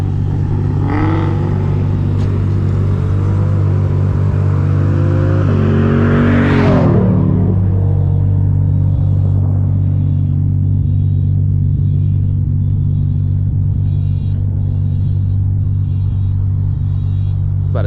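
An 800HP Shelby GT350 at a gas station takeover rumbles loudly up close, with a deep steady idle and a sharp rev rising and falling midway, plus a faint passing voice nearby.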